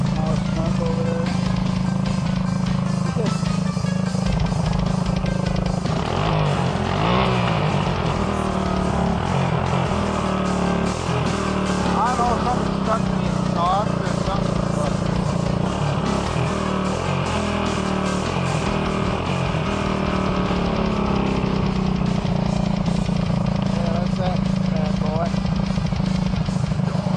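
A Honda 200s motorcycle with a custom exhaust running loud and close, a steady rough engine drone with shifting revs throughout, with talking over it.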